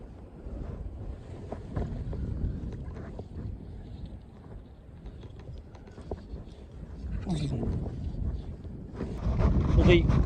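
Wind buffets the microphone outdoors on a New Zealand river while fly fishing, gusty low rumbles rising louder toward the end, with faint mechanical clicks and someone talking intermittently.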